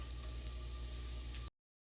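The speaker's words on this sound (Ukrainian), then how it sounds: "поки у мене смажиться капуста" Steady sizzle of cabbage frying in a pan, a continuous broadband hiss for about a second and a half before cutting to silence.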